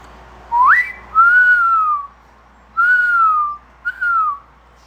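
A person whistles an imitation of a mourning dove, a rising note followed by three drawn-out, falling coos, loud and close, with no other sound.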